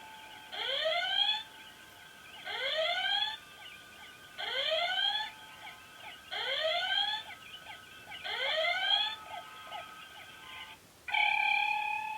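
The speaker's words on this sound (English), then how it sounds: "the red alert again" An electronic red alert alarm from a Playmobil Star Trek Enterprise toy repeats five times, each burst a rising whooping siren tone with pauses between, followed by a steady beeping tone at the end.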